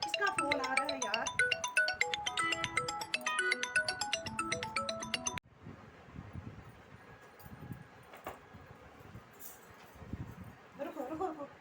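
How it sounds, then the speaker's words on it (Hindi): Phone ringtone plays as a melodic, repeating tune for about five seconds and then cuts off abruptly. Quiet rustling and faint indoor sounds follow. "किसका फोन आ रहा है यार?"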